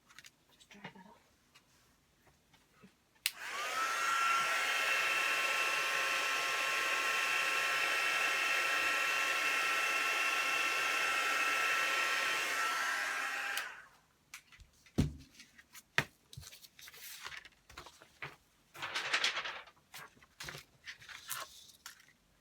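A hair dryer blows steadily for about ten seconds, drying fine glitter on a gift bag wreath craft, then shuts off, leaving scattered handling noises and brief speech.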